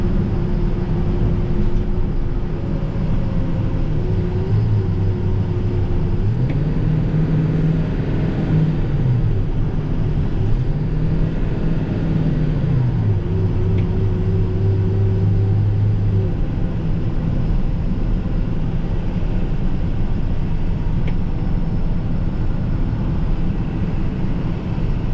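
A snow plow truck drives at night over a slushy road with its plow lowered, giving a steady low rumble and a droning engine tone that rises and falls, heard from inside the cab with no talking.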